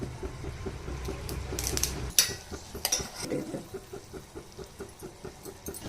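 Onions, ginger-garlic paste and curry leaves fry in a pan for a snake gourd curry: a steady sizzle with a sharp spatter as ingredients hit the oil, then rhythmic stirring scrapes that continue close and even.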